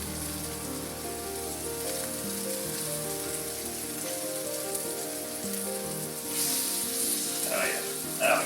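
Butter and flour sizzle in a pan, a steady crackling hiss that swells slightly toward the end, with faint low voices in the background.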